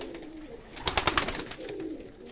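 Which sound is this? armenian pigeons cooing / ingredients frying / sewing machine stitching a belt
armenian pigeons cooing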